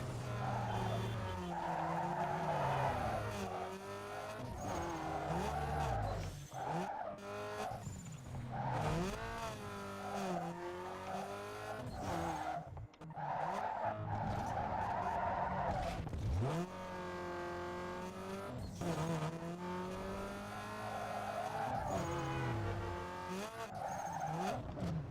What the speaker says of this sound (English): I don't like these downhill drifts.